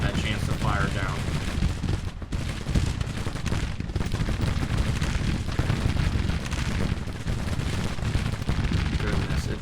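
Musket and artillery fire from Grand Tactician: The Civil War rolls on without a break, as dense crackling volleys mixed with deep booming cannon in a loud, continuous battle din.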